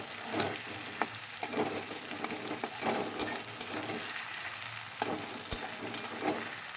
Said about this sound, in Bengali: যাতে মশলার কাঁচা গন্ধটা না থাকে ততক্ষণ পর্যন্ত আমি একটু কষিয়ে নেব